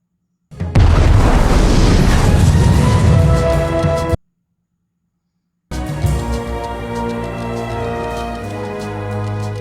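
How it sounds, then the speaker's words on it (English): A bomb goes off in a film with one heavy, loud, booming explosion that roars for several seconds and stops abruptly; after a brief silence, sustained tonal music-like sound follows. "Bomb goes off in 2 minutes."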